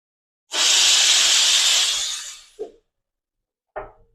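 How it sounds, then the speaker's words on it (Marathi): A loud, close hissing burst of steam from a pressure cooker whistle lasting about two seconds, followed by two brief clinks, while cooking salted peanuts. "गॅस लावून त्याला एक शिट्टी करायची आणि लगेचच बंद करायचं"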